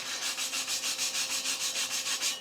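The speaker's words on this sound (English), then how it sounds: "wire brush" A wire brush scrubbing flux off flux-core welds on scrap steel, steady back-and-forth strokes in a brisk regular rhythm, close and fairly loud, with no talking.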